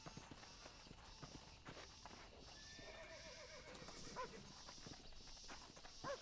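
Horse neighing twice with clip-clopping hooves in the Red Dead Redemption video game, as a wild horse is about to be broken, set among ambient outdoor game sound and music.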